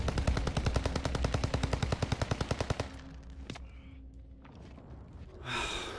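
Call of Duty Warzone gunfire: a fast, steady automatic burst of about twenty-five shots lasting nearly three seconds, loud and near, then a single sharp shot and quieter game noise, ending with a breathy exhale.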